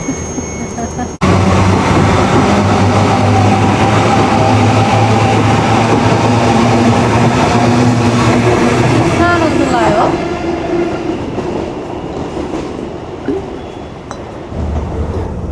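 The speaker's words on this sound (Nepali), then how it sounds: "न्युकासल जाने ट्रेन चाहिँ टक्क लाएर आइसकेको छ" A train bound for Newcastle, New South Wales, pulls into a station platform, its loud rumble and wheel clatter dominating before easing off, with brief speech and station ambience as it settles.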